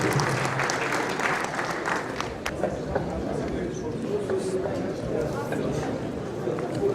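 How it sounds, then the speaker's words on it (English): Audience applause at an official press briefing for a minister's report, a steady dense wash of clapping that holds for several seconds with crowd murmur mixed in. "Please, can we applaud him for this report?"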